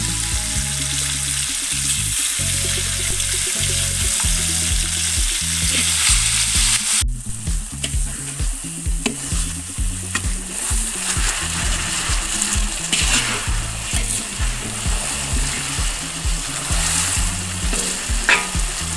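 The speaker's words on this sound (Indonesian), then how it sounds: "Nah, cabenya dimasak seperti ini Bunda." Homemade ground chili paste fries in a pan for a Padang-style balado, crackling and sizzling loudly and continuously with repeated scraping stirs of a spatula, close up and with no voices.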